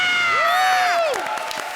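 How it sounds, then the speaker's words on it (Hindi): A studio audience on a comedy show cheers and applauds for new judge Arbaaz Khan, with a sustained crowd roar and bright, rising whoops and whistles that fade into scattered clapping. "हमारे नए जज अरबाज खान के लिए तालियां!"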